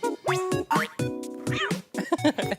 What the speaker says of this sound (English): there's a little bit of a fun part with the cats on the ground here